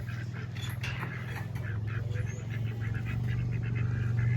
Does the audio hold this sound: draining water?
no